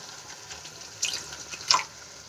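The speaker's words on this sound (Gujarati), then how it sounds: "એમાં આપણે 1/4 કપ જેટલું પાણી એડ કરીશું" About a quarter cup of water is poured into a pan of potato gravy for Bhavnagar-style batata bhungla, giving two short splashing bursts over a faint background hum.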